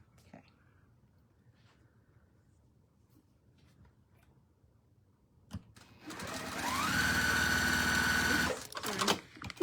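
A sewing machine stitching strips of quilt fabric: after quiet handling and soft voices, the motor starts and runs as a loud, steady, close whir for about two and a half seconds, then stops with a few clunks.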